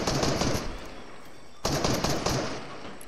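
Rapid automatic gunfire from a bot in Fortnite, heard as dense, loud bursts that fade briefly and then resume at full intensity, with no talking.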